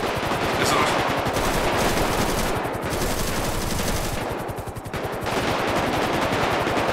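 Sustained automatic gunfire in a combat video game, loud and rapid with long continuous bursts and brief gaps, voices talking faintly underneath.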